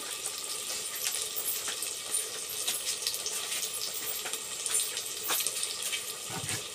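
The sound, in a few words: water poured into cooking shrimp curry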